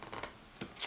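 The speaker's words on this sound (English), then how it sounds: "Going to do another shuffle here." Tarot cards are shuffled by hand in a few quick, soft riffling bursts, close and fairly quiet, over under a second.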